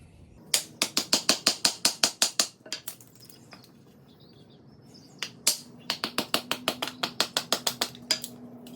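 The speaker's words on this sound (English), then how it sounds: "All right, let's baton it." Pine sapwood is batoned to split it, with two bursts of rapid, sharp wooden knocks close by, a quiet pause between them, and no talking.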